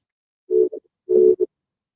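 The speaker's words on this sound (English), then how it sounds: "The phone is ringing and ringing and ringing." Ringback tone of an outgoing phone call, two steady buzzing bursts in a regular ring pattern, clear and close with silence around them.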